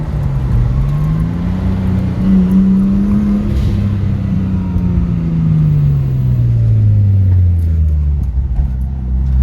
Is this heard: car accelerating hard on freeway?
yes